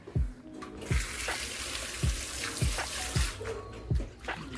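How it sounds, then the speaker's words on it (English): Chopped potatoes being washed under a running kitchen tap, a steady close water stream with repeated low thumps and splashes as the pieces are stirred and rinsed. "So we are going to wash these potatoes, the chopped one."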